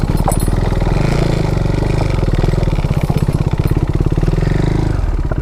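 A KTM Duke 390 single-cylinder motorcycle engine runs close up, its loud, fast, even thumping pulse holding steady with slight fluctuations and no speech over it.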